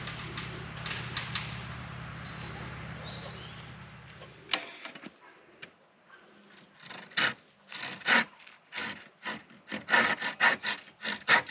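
A hand saw cuts through a timber spacer for roof rafters at a ruined house renovation in Portugal, a steady rasping stroke rhythm followed by a run of sharper, separate strokes, fairly close and clear.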